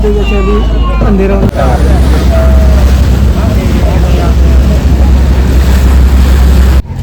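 Sea waves at Malpe beach in Udupi, a steady loud wash of surf blended with strong wind buffeting the microphone, with voices talking over it near the start.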